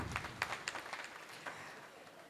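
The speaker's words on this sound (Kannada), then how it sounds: "ಚಪ್ಪಾಳೆ ಹೊಡಿರಿ" An audience at a community annual day function breaks into brief, moderate applause, scattered claps with some faint voices mixed in.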